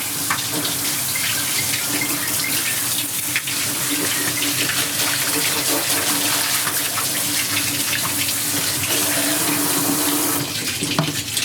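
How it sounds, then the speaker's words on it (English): Water runs steadily from a tap, a continuous splashing rush with no break. "So the water is on, lathering it up still."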